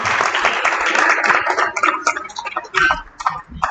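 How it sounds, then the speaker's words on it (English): Loud crowd applause for a youth innovation challenge team fades into scattered claps, with a voice speaking over the tail. "A big applause, please."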